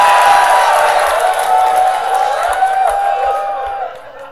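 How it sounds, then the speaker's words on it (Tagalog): A crowd applauds and cheers at a rap battle, a loud, dense wash of clapping and shouting that holds steady for several seconds and then eases off toward the end. "malakas yun pumalakpak"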